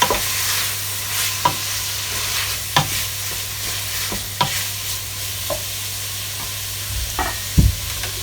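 Pumpkin rice seasoned with black pepper and all-purpose seasoning is stirred in a hot pot, a constant low sizzle broken by several sharp spoon scrapes and knocks against the pot, ending with a louder double clack.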